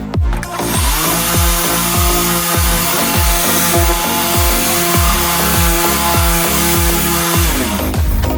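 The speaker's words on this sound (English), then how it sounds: "Okay, I dry sanded it." A bus body is dry-sanded with 1500-grit sandpaper, making a loud, continuous machine-like drone with a regular pulsing beat throughout and no talking.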